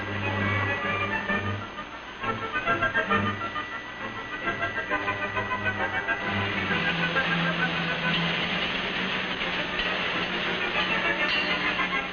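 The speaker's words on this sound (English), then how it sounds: "All the mineral ingredients are placed in this machine and thoroughly mixed." An industrial mixing machine churning mineral ingredients in a 1940s factory, giving a loud steady mechanical drone with rhythmic churning pulses, close and continuous throughout, under no talking.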